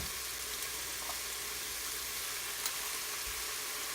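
Onions and green chillies sautéing in a pan give off a steady, fairly quiet broadband sizzle that runs unbroken from start to finish, with no voices.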